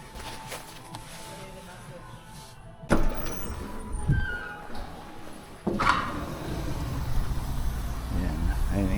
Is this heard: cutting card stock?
no